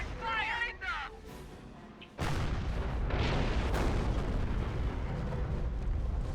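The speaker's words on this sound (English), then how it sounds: "And the Terror Howitzer, 3 artillery pieces on from the Axis." Howitzer artillery fire in the strategy game Company of Heroes, a heavy boom that erupts suddenly and rumbles on with rolling explosions beneath a commentator's voice.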